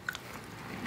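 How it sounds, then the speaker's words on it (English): English shortbread is bitten and chewed close up, giving a short crisp crunch followed by quiet chewing. "can you hear that crunch?"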